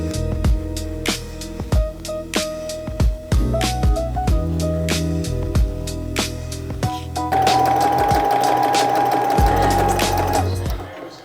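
A sewing machine stitches the final seam of a garment shell, running in bursts with a steady mechanical whir that grows louder and denser toward the end, with some handling clatter and no talk.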